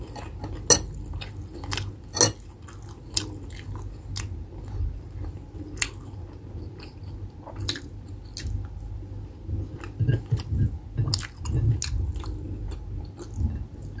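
Seafood such as shrimp chewed close to the microphone during a Filipino mukbang lunch, with soft wet squishing bites and occasional sharp clicks of utensils, steady and intimate, without talking.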